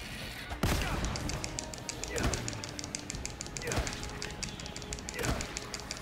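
Four heavy shotgun blasts in The Evil Within 2, spaced a second or more apart and fairly loud, with a voice talking over them.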